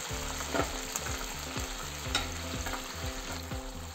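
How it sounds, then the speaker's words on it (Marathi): Cluster beans with turmeric, salt and water cook in a pan, giving a steady close bubbling sizzle that continues without pause. "शिजून घेऊ अगोदर थोड्या"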